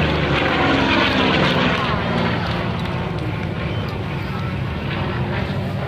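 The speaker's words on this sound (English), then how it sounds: "takes it around that big R2800 front wing engine, churning away about 1950 RPM" An FG-1D Corsair fighter with a big R2800 radial engine at about 1950 RPM roars past at an airshow during a victory roll, a loud continuous propeller drone filling the whole stretch under a commentator's voice.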